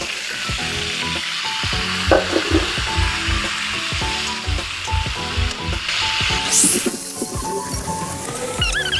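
Vegetables tossed into a pan of onions fried until reddish, a loud steady sizzle with repeated clanking stirring strokes, close and continuous throughout, with a rising hiss and faint spray near the end.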